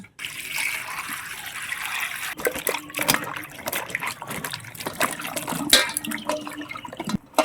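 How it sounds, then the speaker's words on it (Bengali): Gobindobhog rice being rinsed by hand in water, with steady trickling and sloshing, occasional splashes and clinks, close and moderately loud with no talk. "চালটা আমি ধুয়ে নিচ্ছি গোবিন্দভোগ চাল"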